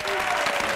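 Studio audience at a game show applauding a team member, a dense, even burst of clapping from a crowd filling the short moment.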